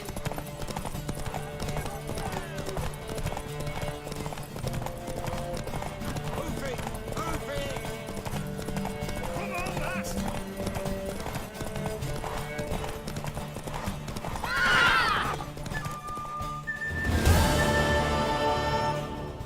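Steady clip-clop of a horse's hooves trotting under music and talk in The Witcher 3: Wild Hunt, followed by a loud whinny near the end.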